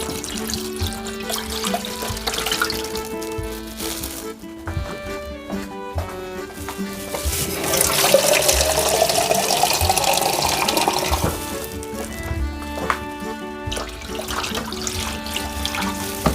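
Running tap water pours steadily into a cooking pot for a long stretch, a continuous splashing rush that swells louder midway, over a constant background hum.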